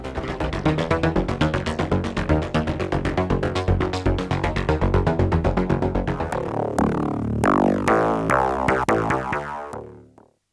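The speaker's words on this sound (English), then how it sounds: "Transient, created for the sole purpose of making distinct transient hits." Loud, dense wavetable synthesizer tones layered with sharp, distinct transient hits that grow more separated near the end before stopping abruptly.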